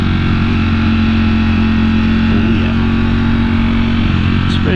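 Motorcycle engine droning steadily while riding along a mountain road at Cohutta Overlook on Fort Mountain, a loud continuous hum with constant wind roar and no talking.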